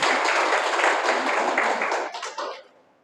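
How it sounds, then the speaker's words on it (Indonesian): A church congregation claps their hands in praise to Jesus, producing a dense, loud wash of applause that holds steady and then fades out over about three seconds. "Tepuk tangan buat Tuhan Yesus."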